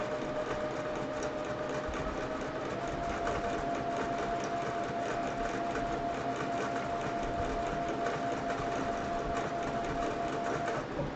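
A home sewing machine machine-quilts a chicken-themed quilt, running in a steady, even mechanical whir with a fast stitching rhythm that continues unbroken throughout, moderately loud and close, with no talking.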